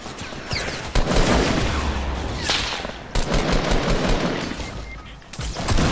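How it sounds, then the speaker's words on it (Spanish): Rapid automatic gunfire and bursts of shots from a Fortnite gunfight fill the stretch, loud and near, with a few sharper single cracks breaking through the dense rattle and no talk over it. "Hay un tiroteo ahí entre nosotros."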